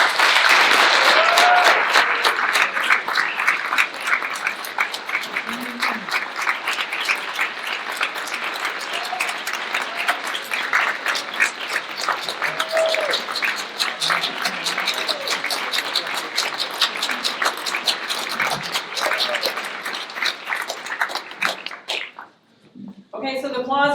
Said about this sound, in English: the applause was very nice